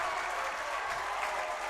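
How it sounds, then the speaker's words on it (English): Fans at a men's college basketball tournament game cheer and clap, a dense, continuous wash of crowd noise with no breaks. "As the crowd is going crazy."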